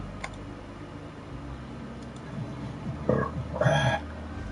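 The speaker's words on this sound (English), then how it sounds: "Burps and all." A single burp from someone talking while playing Yakuza 0, fairly close but modest in level, over a steady low background hum.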